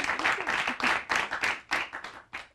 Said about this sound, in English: oh hey, I'm getting applause.